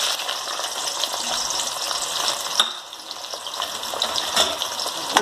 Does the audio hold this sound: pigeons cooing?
no